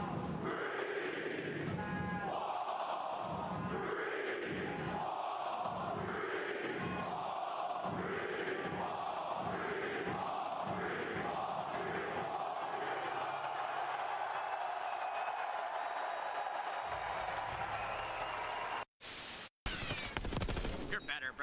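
A home crowd at an esports Call of Duty League match, OpTic versus Heretics, roars in rhythmic chanted bursts for most of the stretch, loud and dense, then fades before a couple of abrupt cuts.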